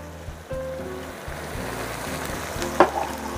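Tempeh stirred in a pan with sweet soy sauce, oyster sauce and mushroom broth, a steady soft sizzle and scraping under a continuous wash of frying noise, with a couple of sharper clinks near the end.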